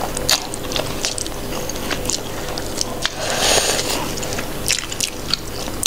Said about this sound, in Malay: so senang kan nak kunyah dan telan.